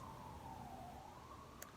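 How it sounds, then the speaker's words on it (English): Faint, distant wailing siren, like a police or emergency vehicle, sliding slowly in pitch under steady background noise, with a brief small click near the end. "The sirens continue."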